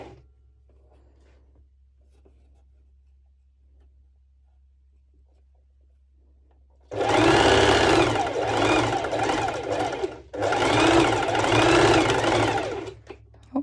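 After several seconds of near silence, a sewing machine stitches a swim skort strap in two loud, rapid bursts of close mechanical chatter separated by a brief pause.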